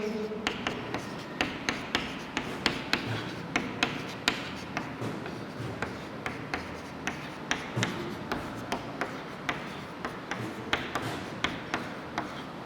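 Chalk or pen tapping and scratching as a multiplication table for six is written out for a class 6 maths lesson, a steady series of short, close writing strokes with no voices.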